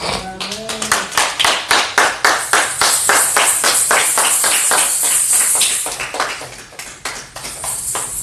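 A church congregation claps in steady rhythmic unison to welcome a pastor, loud and close, with whoops and a voice over the clapping, which later thins into scattered applause.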